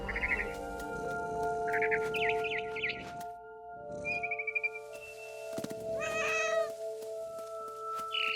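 Several cat meows from the video game What Remains of Edith Finch ring out over a steady synthetic hum, with a short chirpy bird call in between; no one talks.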